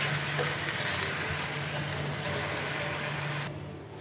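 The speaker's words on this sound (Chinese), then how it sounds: "油温升高了，我们把盐酥鸡丢回锅里复炸。" Taiwanese popcorn chicken dropped back into hot oil for a second fry, a loud, dense, continuous sizzle and bubbling that holds steady throughout and eases slightly at the very end, with no talk.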